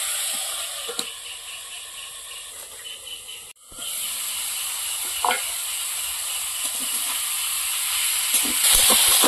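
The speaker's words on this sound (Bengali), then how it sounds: "এইভাবে শাকটা নাড়াচাড়া দিয়ে দিয়ে শাকটা চচ্চড়ি করে দেবো।" Greens cooking with potato and eggplant in a pan in a village kitchen, giving a steady loud sizzle and hiss with occasional stirring scrapes, close by and with a brief break partway through.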